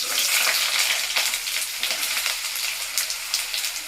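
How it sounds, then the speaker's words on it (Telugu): Onions frying in hot oil with garlic, a bright continuous crackling sizzle with occasional stirring, close and steady, no talk. "దూరంగా పెట్టి కొంచెం అట్లా చిట్పట్ట అయిన తర్వాత ఉల్లిపాయలు వేస్తున్నాను"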